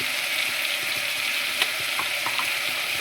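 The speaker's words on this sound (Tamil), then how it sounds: "முள்ளங்கி வந்து நல்லா வதக்கிடலாம் கொஞ்சம் போட்டுக்கோங்க இப்போ வந்து நம்ம யோகா சாம்பார் தூள் போட்டுக்கலாம்" Radish is sautéed with sambar powder in a pan, making an even, hissing sizzle close up, with a couple of light utensil taps.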